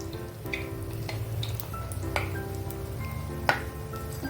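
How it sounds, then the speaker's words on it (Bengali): Eggplant fritters (beguni) frying in hot oil give a steady, moderate sizzle with scattered crackles and pops throughout. "একটু গরম গরম বেগুনি ভেজে নেব।"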